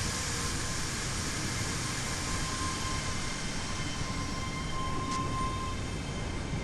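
A train in a video game set on Scottish rail lines rumbles along steadily, a continuous loud hum and rolling drone with faint tonal whines layered over it and no speech.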